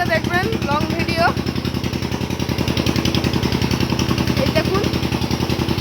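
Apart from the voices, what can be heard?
shallow pump engine (shallow machine) watering banana field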